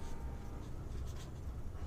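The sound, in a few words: writing down a correction by hand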